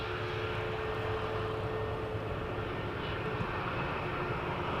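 Large passenger jets take off at Schiphol's Polderbaan runway, a continuous broad engine roar and rumble heard from outdoors at moderate distance, with no talk.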